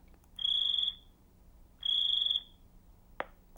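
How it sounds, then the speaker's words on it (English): Electronic insect chirp sound effect played by a LEGO EV3 brick program, two short, shrill, buzzing beeps spaced about a second apart, followed by a sharp click, faint and alone. "And we're going to do insect chirp."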